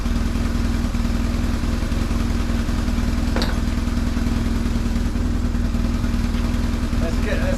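A motorcycle being built into an adventure bike runs after three years in storage, a steady low idling engine with rattling clatter, continuous and close throughout.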